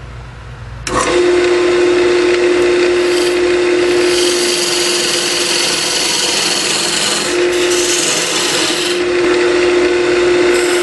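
A wood lathe parts down a wooden Christmas ornament. The sound is a loud, steady whirring hum with a cutting and scraping rasp that starts after a brief quieter moment and continues without a break, close by and with no talking.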